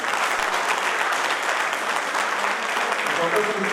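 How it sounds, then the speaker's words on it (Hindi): An audience at a Hindi poetry gathering, a kavi sammelan, bursts into steady applause, dense continuous clapping from a crowd that holds evenly throughout. "तालियों से हो जाए हर रचना का"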